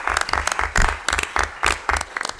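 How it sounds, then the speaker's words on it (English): Applause fills a formal anniversary ceremony hall: a short burst of many hands clapping, moderately loud and a little distant, with no talk. "He deserves a round of applause."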